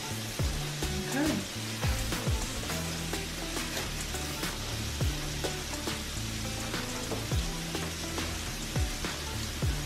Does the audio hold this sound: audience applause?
no